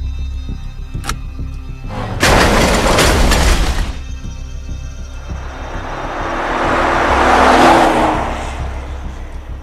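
A car driven by Chio approaches: a long swelling engine and road rush that builds and fades, preceded by a sharp loud burst of broadband noise, no talk.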